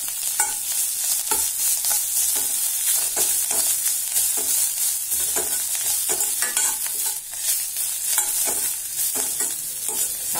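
Fresh coriander and mint leaves sizzle loudly in a pan as they are sautéed for thokku, with steady frying hiss and intermittent stirring scrapes throughout and no one talking.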